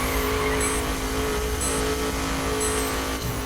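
A race car's engine in The Crew driving game, circuit racing: a loud, steady engine drone holds at an even pitch from start to finish, with no voices.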